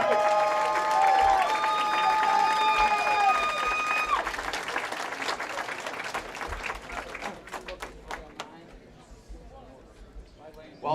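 Crowd applause and cheering at the 2026 Wisconsin High School Bowling Championships, a loud sustained burst of clapping in a large hall that gradually thins out, with a voice over the start.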